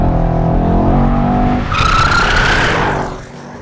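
A Mercedes-AMG E63 S with a powerful V8 drifts sideways on a race circuit, its engine roaring loud and close while the tires break into a long, high screech that fades as the car slides away.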